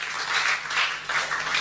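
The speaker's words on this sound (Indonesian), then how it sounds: "Tepuk tangan dong buat Tuhan." A church audience applauds, a steady wash of many hands clapping at moderate volume that swells in waves throughout, with no voices standing out.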